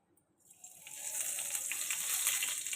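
Cumin seeds sizzle in hot oil for a tempering, the crackle swelling from quiet to a steady, close, bright hiss that holds to the end, with no talk.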